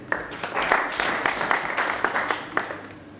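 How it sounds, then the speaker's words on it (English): Applause from a university conference audience, a steady wash of many hands clapping with scattered sharper claps, fairly close and continuous throughout. "please a round of applause for him."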